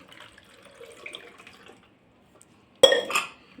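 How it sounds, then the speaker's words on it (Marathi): Water poured into a pressure cooker holding potatoes, a sharp splashing burst with metallic clatter near the end, following a stretch of faint kitchen clinks and handling noise; no talking. "ह्याच्यामध्ये आता पाणी टाकून घ्यायचं"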